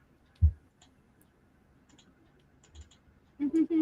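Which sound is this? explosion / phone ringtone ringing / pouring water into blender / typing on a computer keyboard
typing on a computer keyboard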